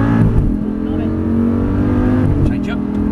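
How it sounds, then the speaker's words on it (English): An Audi R8 accelerating hard on the Silverstone circuit, a loud sustained engine roar from inside the car with rising revs and gear shifts, as an instructor talks over it. "now feed the power on here, now hard on the gas"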